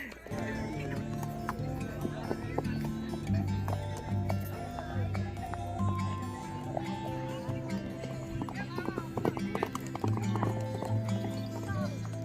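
Horses walk along a busy street at the Mahabaleshwar hill station. Their hooves clip-clop in an irregular rhythm over background voices and tonal street noise.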